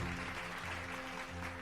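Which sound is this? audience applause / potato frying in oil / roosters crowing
audience applause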